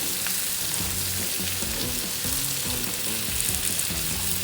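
Eggplant pieces fry in a pan with a dense, steady sizzle, punctuated by irregular crackles and soft stirring clicks, close and continuous without any voices.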